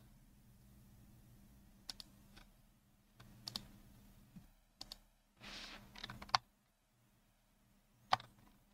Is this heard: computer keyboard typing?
yes